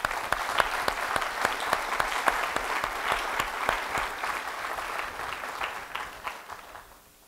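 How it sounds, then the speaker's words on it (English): An audience at a lecture applauding, a dense spread of clapping that holds steady at moderate distance and then gradually tapers off. "Now, I don't know if that deserves a round of applause,"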